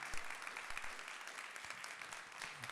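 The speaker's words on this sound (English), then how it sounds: "Let's give another round of applause for Nickelus F, Skillz." Audience at a university conversation event giving a round of applause, a steady dense clapping crowd sustained throughout, faint and somewhat distant.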